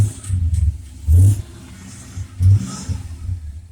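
A 1970 Dodge Dart Swinger with a 340 V8 fires up and revs, two sharp throttle blips rising over a lumpy, rumbling idle, close and loud.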